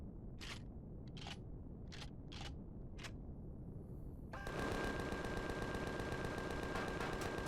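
Weapons firing in Empyrion Galactic Survival during a fight at a Zirax drone base, starting as a few separate spaced shots, then turning into a continuous rapid stream of automatic fire, all fairly faint within the game mix.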